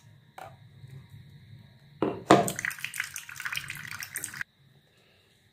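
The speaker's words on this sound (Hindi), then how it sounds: "तो चलिए अब इसे मैं छान लेती हूँ।" Ground garlic and onion juice, mixed with half a cup of water, is strained in a home kitchen: a quiet start, then a louder burst of pouring and trickling liquid for about two seconds before it stops abruptly.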